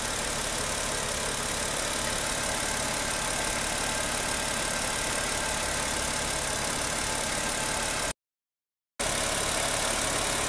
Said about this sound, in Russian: сейчас долго нагревать не буду двигатель